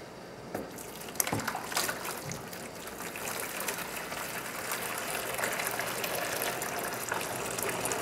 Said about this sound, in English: Okay, now I am almost start to put in the hot water.